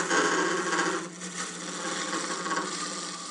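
A turning tool cuts the inside of a wooden hollow form spinning on a lathe, giving a steady, close rasping and scraping that eases slightly partway through and then carries on evenly.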